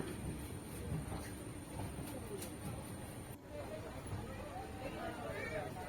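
A passenger train pulls into Araku railway station on the Visakhapatnam to Araku line, a steady rumbling roll with faint squeals and a busy crowd murmuring throughout.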